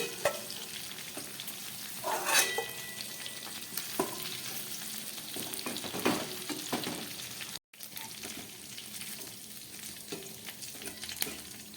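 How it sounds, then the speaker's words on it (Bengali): Bele fish, a flathead goby, frying in oil, heard as a constant nearby sizzle with bursts of crackling and stirring, cut by one brief dropout near the end; nobody speaks. "মাছগুলো আমার ভাজা রেডি"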